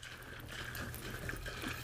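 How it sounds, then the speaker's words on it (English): Sanitizer solution sloshes inside a cider bottle as it is shaken, a faint, continuous watery swishing heard close with no talking. "of course I'm going to give it a shake to get it everywhere"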